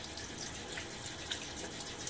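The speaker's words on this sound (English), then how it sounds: "Just rinsing the handle" Running tap water rinses a knife handle during a shave with a Nacet blade, a steady soft stream under a sink faucet, faint and continuous with small splashy flickers.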